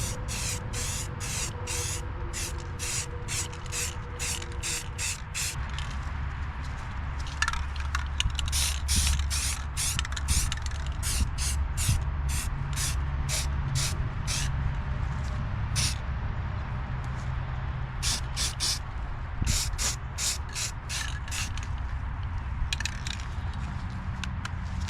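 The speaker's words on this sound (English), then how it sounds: "time to throw a coat of paint on the transmission mount" Spray paint is applied to a transmission mount in steady hissing bursts over a continuous background hum, with a rapid series of short rattling spurts through the middle and toward the end.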